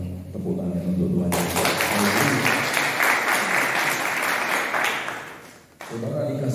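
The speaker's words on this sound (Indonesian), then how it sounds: "1, 2, 3 jiwa tepuk tangan untuk Tuhan" Congregation clapping together in a church service, a dense burst of applause that swells for several seconds and then cuts off, with talking before and after.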